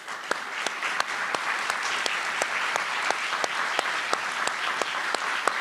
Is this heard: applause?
yes